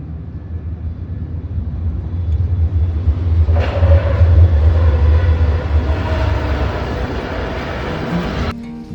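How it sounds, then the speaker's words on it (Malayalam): A tram pulls into Education City, Qatar, with a low, steady rumble that swells as it nears and carries a faint rising whine before cutting off at the end. "അപ്പോൾ നമ്മുടെ ട്രാമ വരുന്നുണ്ട്"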